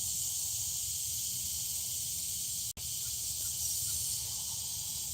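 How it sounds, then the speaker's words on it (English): Loud cicadas buzzing outdoors in a steady, dense high-pitched drone that continues unbroken, apart from a brief click midway, with no talking. "The cicadas are loud."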